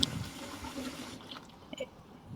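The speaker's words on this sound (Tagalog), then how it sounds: "lagyan din natin ng fresh water from faucet" A cooking pot being filled with fresh water from a kitchen faucet for a Chinese soup: a short burst of running water that cuts off after about a second, leaving a quiet room with faint splashes.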